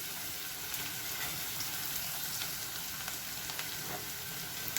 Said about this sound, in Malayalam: ഉള്ളി മൂക്കുന്ന വരെ നമുക്ക് നന്നായിട്ട് ഇത് ഒന്ന് സോട്ട് ചെയ്യാം